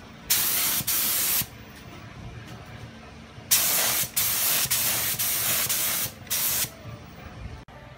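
A spray gun lays lacquer surfacer primer onto auto body panels in short bursts of loud close hissing, several passes separated by quiet pauses, with no talking.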